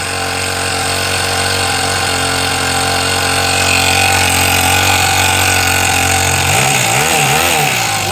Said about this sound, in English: This is the starter.